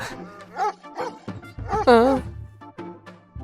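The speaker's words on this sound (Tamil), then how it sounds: "இந்த டைம்ல இந்த நாய் ஏன் கத்தின்னு இருக்கு" A dog barking and yelping at night, with short yips and a rising, wavering whine in the middle, mixed in with someone talking nearby.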